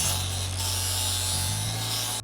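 A grinding disc takes the surface off a metal tube with a steady, close, buzzing whine that holds even and then cuts off abruptly.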